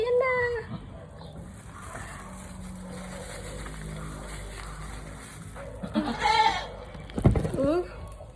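Goat bleats come in short, strained cries at the start and near the end, just after the animal gives birth to a kid. Quiet outdoor background fills the middle, with a person speaking close by.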